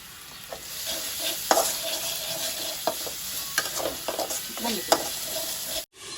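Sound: winter vegetables being sautéed and stirred in a pan

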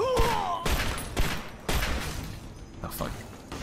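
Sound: automated turret gunfire in the video game Fallout 3

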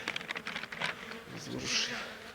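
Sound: honeybees in a hive, Carniolan and Buckfast colonies

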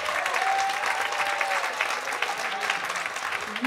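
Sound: applause at a wedding reception

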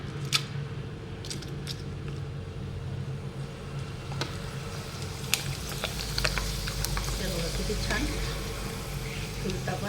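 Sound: potato chips frying in oil

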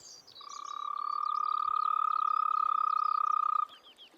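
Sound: toads croaking in a pond

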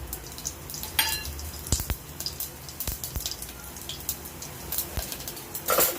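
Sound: bay leaf, cloves, cinnamon and cumin sizzling in hot ghee

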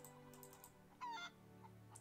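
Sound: chicken clucking in video game zOMG

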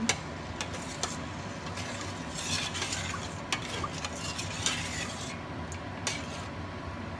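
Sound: stirring coconut milk with a big spoon

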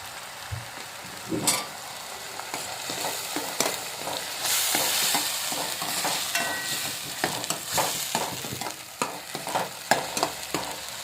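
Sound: sautéing masala with turmeric in a pan

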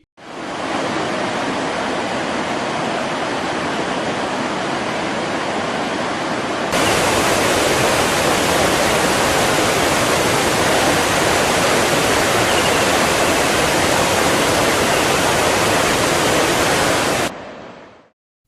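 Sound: Agasthiyar waterfall overflowing after heavy rain, Tirunelveli

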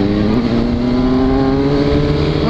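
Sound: Yamaha XJ6 motorcycle throttle being revved

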